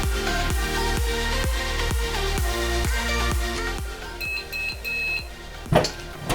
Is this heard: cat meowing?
no